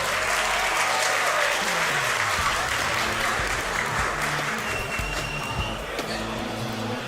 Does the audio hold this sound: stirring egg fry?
no